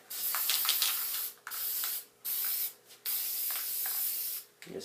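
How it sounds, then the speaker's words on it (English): Several bursts of black spray paint hissing from a can close up, each lasting about a second, separated by short silent gaps. "I'm going to spray a little bit on there."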